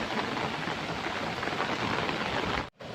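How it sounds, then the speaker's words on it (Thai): Light rain falling outdoors beside a hand-dug pond on laterite soil, a steady dense patter spread evenly across the clip, near and continuous, ending with a brief dropout just before the close. "อันนี้ฝนตกแล้วก็แดดออก"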